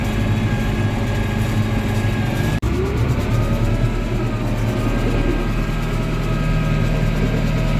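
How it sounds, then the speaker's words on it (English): Two farm tractors idle together while warming up on a tie-stall dairy farm, giving a loud, steady diesel drone with a low throb that carries on without a break. "I got both tractors going"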